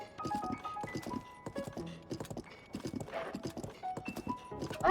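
Horse hooves clip-clopping in the game Zelda: Tears of the Kingdom, a close, steady rhythmic trot of hoofbeats mixed with light game music tones, no talking.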